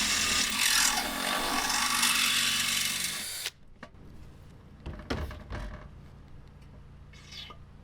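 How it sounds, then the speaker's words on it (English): A power drill bores a hole through the lid of a Weber Q grill, a loud grinding whir for about three seconds before it cuts off, followed by a few faint handling knocks. "So I grabbed a bigger drill bit."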